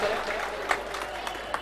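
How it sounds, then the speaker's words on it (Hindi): Applause from an audience welcoming guests at a stage event, a dense, steady patter of clapping that holds throughout with a few sharper claps standing out, moderately loud and close. "एक बार जोरदार तालियों की गड़गड़ाहट के साथ में पधारे हुए मेहमानों का स्वागत करें"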